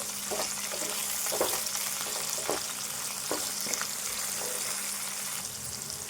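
Green chillies frying in a pan for an egg and tomato curry, a steady sizzle with a few soft scrapes and stirring knocks, close and moderately quiet, with no talking.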